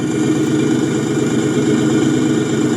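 A tractor engine running at a steady idle: a continuous, close, even rumbling drone with no change in pace and no talking.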